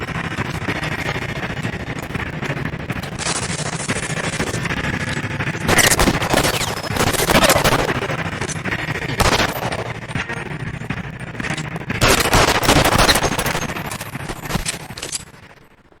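Dense, loud gunfire in the crime video game L.A. Noire, sustained bursts and volleys layered over a continuous game soundtrack, with heavier clusters of shots partway through.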